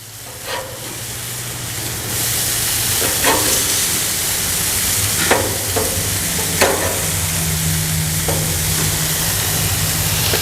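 Flipped Wagyu and grass-fed Angus beef burgers sizzle loudly on a grill, a dense, steady hiss that swells after the first couple of seconds, with scattered pops and scrapes and a low hum underneath, no voices.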